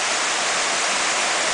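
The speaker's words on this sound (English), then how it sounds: "As you can see, there's a waterfall into a nice 4 to 5," Skinny Dip Falls pours into a pool four to six feet deep, giving off a loud, steady rushing roar of falling water.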